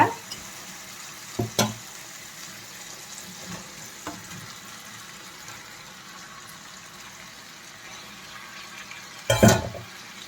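Chicken pieces fry in a pan with onions, a faint, steady sizzle broken by a few clattering stirs, with a louder burst near the end.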